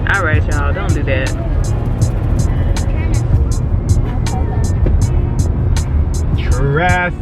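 Road traffic passes steadily throughout, a continuous mid-level rumble of cars, with people talking and shouting over it.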